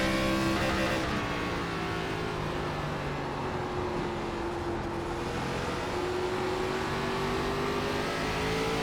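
Race car engine in the iRacing ARCA Menards Series at USA International, a steady sustained drone with clear harmonic tones, loud and continuous without pauses throughout.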